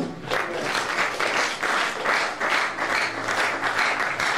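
A church congregation claps in applause, dense rhythmic clapping pulsing at an even beat, fairly close and sustained throughout.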